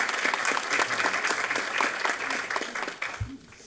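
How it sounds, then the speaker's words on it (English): An audience at a school district board of trustees meeting gives a full round of applause, loud and continuous, thinning out toward the end with a low thump. "And we'll give you one last round of applause."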